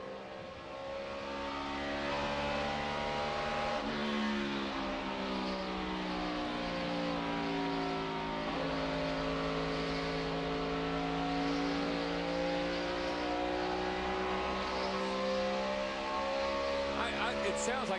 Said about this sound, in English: it sounds like it broke a rocker arm, something in the engine itself